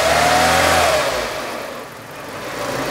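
A small K11 Nissan Micra engine, newly fitted with a throttle body, revs loudly, pitch rising then settling, before easing back toward a rough idle; no voices.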